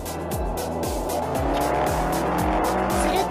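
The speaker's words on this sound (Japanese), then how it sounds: "注意の意味で撮影者がブレーキ踏みました。" A car brakes hard on the road with tires squealing, recorded from inside a vehicle by a dashcam while a truck tailgates behind. A steady loud engine and road roar holds throughout, with repeated sweeping squeals.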